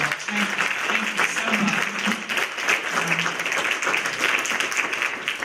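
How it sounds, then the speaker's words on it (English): An audience at an evening church event gives a sustained round of applause, dense steady clapping from many hands filling the room at even loudness, with a faint voice or tone beneath it. "Can we just thank them by a round of applause?"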